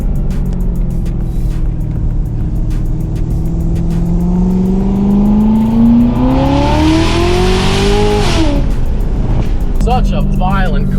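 A stock Corvette ZR1 revs hard, its exhaust climbing in pitch before sharp pops and crackles on the lift-off, loud and close, with people talking over it.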